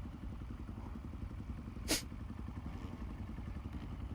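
A KTM motorcycle engine drones steadily in a racing video game, a low continuous buzz held at a faint level with a brief sharp clatter partway through.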